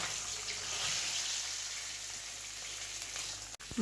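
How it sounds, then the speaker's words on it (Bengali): Steady loud sizzling of singhi fish frying in hot mustard oil, a constant crackling hiss close by, ending with a short clatter. "নুন দিয়ে তারপর মাছগুলো ভেজে নেব"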